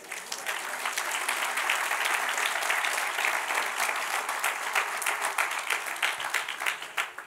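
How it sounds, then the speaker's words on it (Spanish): A church congregation breaks into sustained, dense applause during a Bible class, loud and even throughout, with the clapping thinning slightly toward the end. "Denle un aplauso al Señor"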